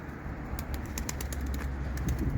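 Tumbler pigeons coo softly beneath a steady low rumble, with faint wing flutters and light shuffling close by as they are fed.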